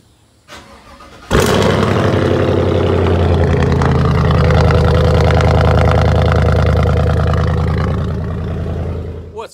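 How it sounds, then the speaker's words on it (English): Truck engine cold-starting after suspension modifications: a short crank, then it catches with a loud roar and settles into a steady, rumbling high idle that holds close and strong to the end. "Cold start inbound, RIP headphone users."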